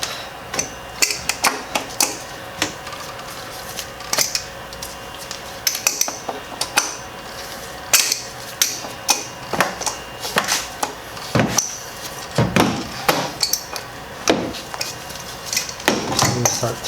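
An adjustable wrench loosens the oil filter housing on a Volkswagen Tiguan, giving a series of sharp metallic clicks, clanks and taps at irregular intervals over a faint background hum, with no talking.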